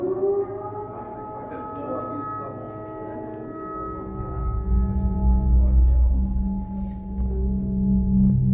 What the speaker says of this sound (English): now we're going to do the bombing simulation inside the bunker